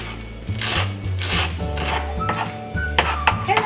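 A knife chops a small bunch of cilantro on a cutting board, giving a run of close, crisp taps in quick uneven bursts over a low steady hum.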